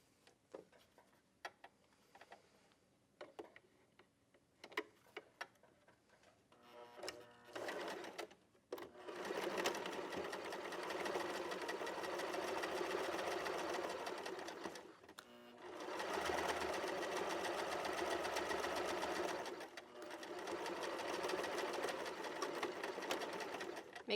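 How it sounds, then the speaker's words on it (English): A sewing machine runs straight stitching down the folded edge of a flat felled seam, with light handling clicks first, then two long steady bursts of close, even whirring separated by a short pause. "add a straight stitch here all the way down this folded edge"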